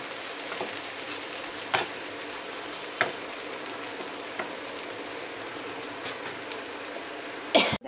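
Food fries in a pan, left on the stove to turn crisp, with a faint, steady sizzle broken by a few sharp spits and a louder clatter just before the end.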